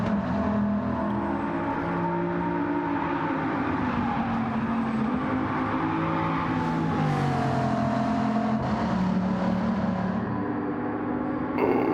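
Race car on the Porsche curves, its engine droning loud and steady as the pitch rises and dips through the fast bends, with no pauses.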